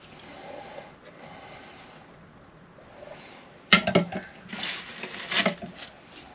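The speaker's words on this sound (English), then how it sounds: "So we just mix that all together now." Egg and butter get stirred into dry ingredients in a bowl, a few seconds of quiet room tone before a run of irregular clinks and scraping knocks from the utensil against the bowl.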